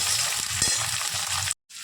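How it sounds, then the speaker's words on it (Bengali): Potatoes, beans and capsicum frying in a pan, a close steady sizzle with a few stirring scrapes, cutting out abruptly before resuming briefly. "এখানে বিনস, এখানে ক্যাপসিকাম, আমি সব দিয়ে ভালো করে এখানে লাল করে একটু ভেজে নেব"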